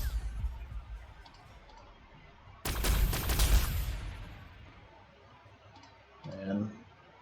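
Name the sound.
gunfire in Warhammer 40,000: Sanctus Reach video game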